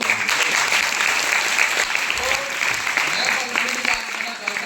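Applause from trainees at a public speaking skills workshop, a steady dense wash of clapping lasting several seconds with some voices mixed in.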